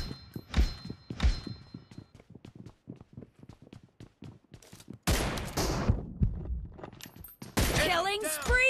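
Rapid gunfire from a BGMI mobile team deathmatch with an M24 sniper rifle, a dense run of sharp shots followed by louder bursts mixed with game announcer voices and effects.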